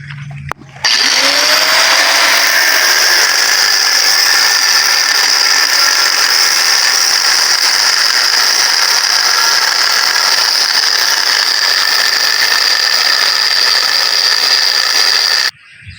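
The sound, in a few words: grinder cutting aluminium engine cylinder head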